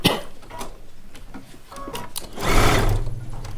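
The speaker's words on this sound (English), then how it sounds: "Let me sit here and think about it while I'm sewing this improv block together" A sewing machine stitches an improv quilt block from charm-pack patches in short mechanical bursts of rapid needle clatter. A louder, denser run of stitching comes near the end, with no talking.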